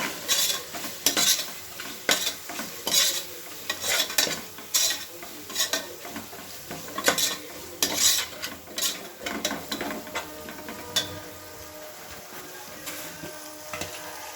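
Ginger garlic paste and coriander powder frying in a pan for Telangana bagara rice, with a soft sizzle under repeated scraping and clinking of a spoon as it is stirred, close and steady, without speech.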